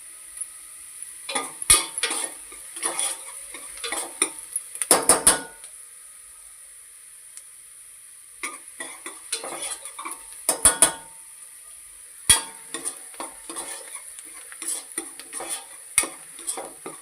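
Onion with cloves, peppercorns and cardamom fries in a heavy-bottomed cooker for a tempering, a steady soft sizzle broken by repeated scraping and clattering strokes of a spoon stirring against the metal.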